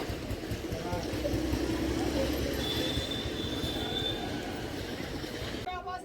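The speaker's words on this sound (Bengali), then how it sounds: "ট্রেনে উঠলাম গোপালনগর থেকে" Passenger train running out of Gopalnagar station in the evening, a steady loud rumble of wheels on rails with a thin squealing tone, continuous throughout before a brief change near the end.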